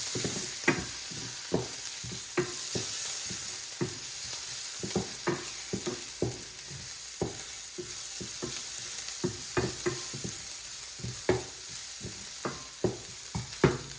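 Garlic paste frying in a pan for stuffed bitter gourd makes a continuous sizzle, punctuated by frequent sharp taps and scrapes from stirring. There is no talking.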